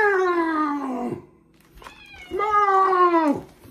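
A human voice imitates a cat, giving two loud, drawn-out meows separated by a short pause, each falling in pitch at the end.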